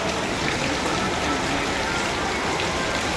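Steady rain falls outside a shop in Surat, a close, unbroken hiss of drops spattering on hard surfaces with no voices over it.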